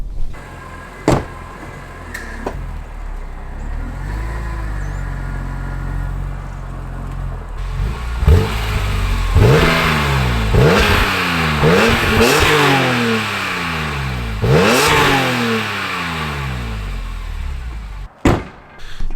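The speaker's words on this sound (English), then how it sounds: "And let's do some exhaust sounds." A BMW E46 M3 engine with SMG gearbox idles close by, then is revved repeatedly in sharp bursts through a raspy exhaust, each rising and falling, before settling and a door thunks shut.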